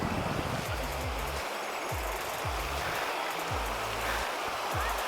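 Water at Avalanche Lake in Ooty rushes in a steady broadband hiss at close range, with someone talking over the flow throughout.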